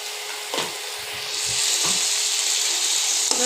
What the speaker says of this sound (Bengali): এটাকে কষিয়ে নেবো মশলাটা